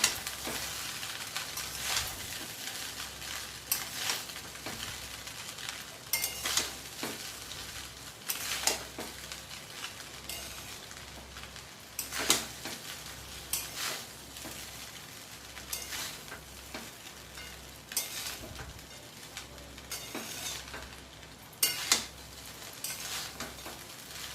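Fried rice being stirred in a frying pan after sugar is added, with a steady sizzle and repeated scraping of the spatula against the pan in an irregular rhythm, close and fairly quiet, with no talking.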